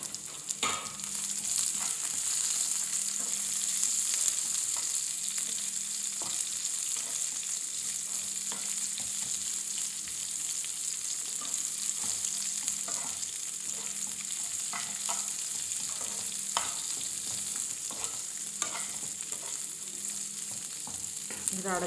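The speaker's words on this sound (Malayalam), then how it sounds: "അടുത്തതായിട്ട് നമുക്കിത് അരിഞ്ഞു വെച്ചേക്കുന്ന സവാളയും പച്ചമുളകും ഇട്ട് കൊടുക്കാം." Onions, green chillies and jackfruit seeds sauté in a pan, giving a low, steady sizzle with scattered light stirring taps throughout, quiet and even.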